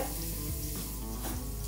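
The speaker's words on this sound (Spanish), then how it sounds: "Troceamos el apio y lo vamos a añadir al aceite." Chopped celery sizzles and fries in hot oil in a pan, with a steady, close crackle throughout and no talk.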